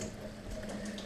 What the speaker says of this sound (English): So we're going to take our noodles here and position them into the boiling water.